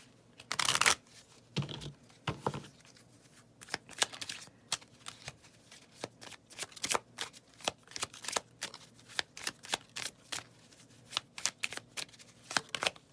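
Tarot cards being shuffled by hand, with rapid rustling riffles followed by a long series of crisp, irregular card clicks and slaps, close and fairly quiet.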